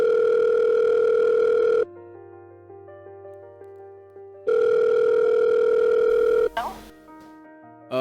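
A phone call placed on speakerphone rings out with steady repeating ring tones, two long loud bursts separated by a pause, followed by a brief clatter of handling noise.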